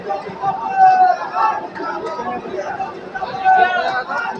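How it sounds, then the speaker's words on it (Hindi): Crowd babble on the Purnia Junction railway platform as people await the inaugural Vande Bharat train, a close murmur of many overlapping voices with a nearby speaker talking over it. "पूर्णिया जंक्शन में भीड़ देखिए भैया"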